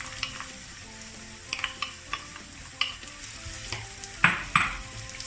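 Chopped onion frying in oil in a pan, a steady soft sizzle broken by scattered scrapes and knocks of a utensil stirring it, close and fairly quiet.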